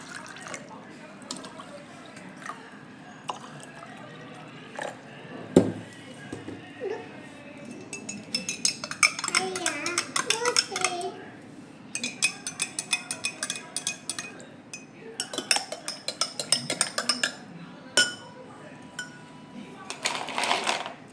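Water splashes into a glass of lemon juice with sabja seeds, followed by repeated clinks of a spoon stirring against it, with brief pauses between bursts.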